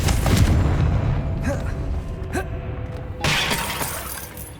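A Confringo fire spell from Hogwarts Legacy bursts in a sharp shattering blast, followed by a few smaller crackling impacts and a second loud burst near the end, over a rumbling game background.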